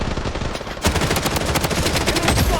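Rapid automatic gunfire in the mobile battle royale game Blood Strike, a dense continuous rattle of loud close shots that grows heavier after a brief gap, with no voice audible.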